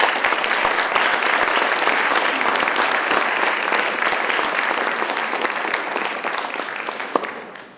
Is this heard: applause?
yes